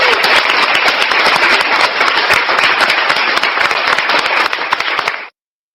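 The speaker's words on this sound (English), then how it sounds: "Let's give him a round of applause." Dense, loud, continuous applause with a crackly, compressed edge, many rapid claps merging into a steady roar that cuts off sharply just before the end.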